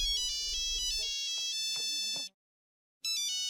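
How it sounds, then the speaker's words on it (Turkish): A cartoon phone ringtone plays a bright, cheerful electronic melody in two bursts separated by a short pause, loud and clear with no voices. "Çok tatlı çalmıyor mu telefonu?"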